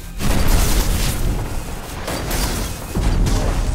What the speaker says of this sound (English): Fireball grenade.